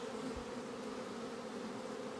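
Steady, dense buzzing of honeybees at a hive entrance, continuous and close, with a constant hum and no voices.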